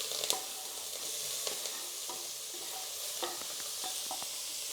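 Onions sizzle in a hot frying pan, a steady high crackling hiss punctuated by several sharp clicks and scrapes of stirring, with no voices.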